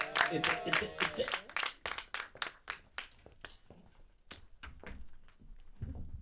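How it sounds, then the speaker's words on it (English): Brooklyn comedy show audience clapping for a comedian, a burst of loud rhythmic claps that thins into scattered, fading claps, with some voices and a thud near the end. "I need y'all to make some noise for my good brother Roger."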